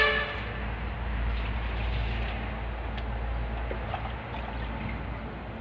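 Water poured onto fermenting goat manure, a steady close rushing pour that continues throughout with a faint trickle edge and no talk.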